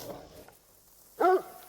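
A dog in the hunting game Hunter Call of the Wild gives a brief, faint whining bark partway through, otherwise quiet.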